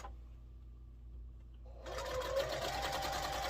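A sewing machine stitches across the seams of an air castle quilt block; the needle hits the thick seams roughly. A faint low hum gives way, about halfway through, to close, steady, continuous whirring stitching with no talk.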